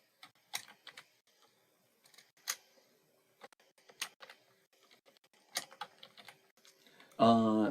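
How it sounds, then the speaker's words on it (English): Someone types on a computer keyboard with sparse, light keystrokes in irregular clusters of clicks, close and quiet, before a voice begins at the very end. "I'm going to type the professor's name"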